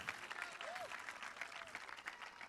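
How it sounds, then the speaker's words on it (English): A high school graduation crowd applauds, a faint, distant wash of steady clapping with scattered cheers and whistles lasting a couple of seconds. "Let's give a round of applause to that."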